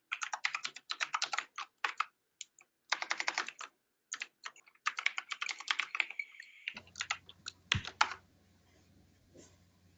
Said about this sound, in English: your keyboard is making a lot of sound